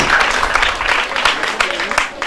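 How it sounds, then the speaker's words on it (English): A school audience at a reading and summarizing competition breaks into loud, dense applause, the clapping mixed with crowd noise and a voice speaking over it throughout. "Can we give her a round of applause?"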